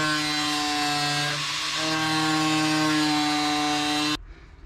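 A 4.5-inch angle grinder slices through rusty floor sheet metal of an Autozam AZ-1, a loud steady high whine with strong harmonics held for about four seconds, then cutting off abruptly into a quiet tail.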